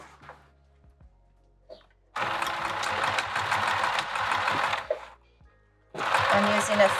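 Sewing machine stitching vinyl for a handbag at a 3 mm stitch length, a close rapid mechanical whirr running in two bursts separated by a pause, with brief quiet handling sounds between.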